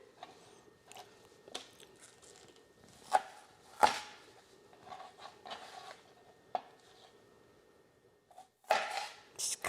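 A knife chops scallion on a cutting board with a series of sharp, irregular close taps, grouped in short bursts with pauses, plus a denser flurry of cuts near the end.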